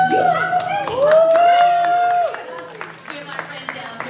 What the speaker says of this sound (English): give my friend down here a round of applause